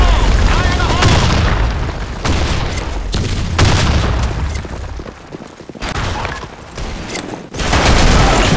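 Grenade blasts and gunfire in the shooter game BlackShot, on a sandstorm map. Dense, loud booms and rattling shots run almost without a break, with brief lulls around the middle. Voices sit under the din.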